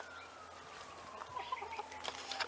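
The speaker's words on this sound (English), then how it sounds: "And my hens are here." Backyard hens cluck in a garden, several soft, scattered clucks growing busier toward the end over a low outdoor hum.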